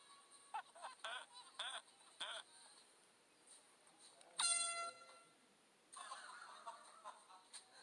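Loud blasts of an air horn sound effect from a comedy compilation, several short honks early on, then a long sustained blare and another burst toward the end, separated by quiet gaps.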